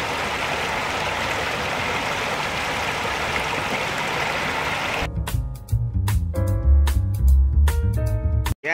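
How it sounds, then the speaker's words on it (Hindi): Water from a waterfall pours down a hillside in a steady, loud broadband rush for about five seconds, then gives way to a low rumble with scattered clicks and knocks. "तो ये है वाटरफॉल, ये पूरा ऊपर से आ रहा हिल पे से"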